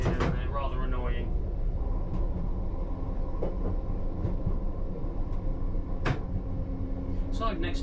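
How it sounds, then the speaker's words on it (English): Rhythmic mechanical clunks of air-powered windscreen wipers inside a London Underground Piccadilly line train cab in the rain, repeating every second or so over steady rumbling motor and track noise, with brief speech at the start. "Sorry about the noise from the window wipers, they are air operated and they're rather annoying."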